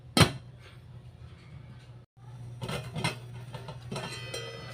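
A sharp metallic clank near the start as a lid is set onto a pot of water being brought to a boil, followed by a soft hum and a few lighter kitchen clatters.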